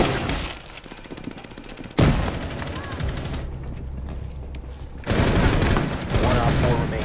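Gunshots in the Rainbow Six Siege video game: loud bursts of rapid gunfire in several bouts separated by quieter gaps, with voices talking over parts of it.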